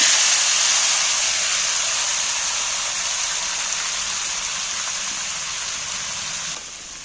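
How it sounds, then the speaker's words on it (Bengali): Spiced taro and potatoes hit a hot pan and sizzle in a steady, loud hiss that fades slightly over several seconds. "এবার আমি এইটা পুরো মশলাটা মশলা মাখা কচু আলু তুলে দিচ্ছি"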